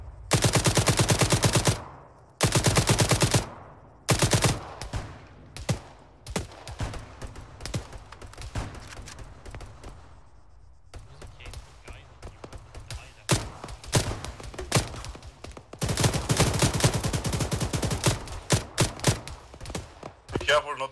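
In Arma 3, a mounted gun fires long, loud automatic bursts, breaking into rapid single shots and further sustained volleys, with short pauses and quieter stretches of distant gunfire between them.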